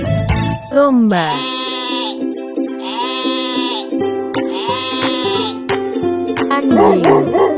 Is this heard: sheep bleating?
yes